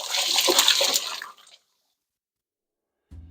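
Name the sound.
draining the water from boiled potatoes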